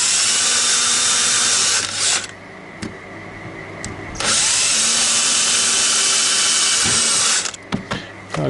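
A small drill with a bit of a couple of millimetres bores a pilot hole in wood, whining loud and close in two long bursts with short pauses and clicks between them.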